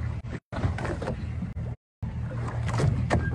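A boat engine runs at sea with a steady, loud broadband rumble and wash. It is interrupted by two brief dropouts, then continues strongly to the end, with no clear talk over it.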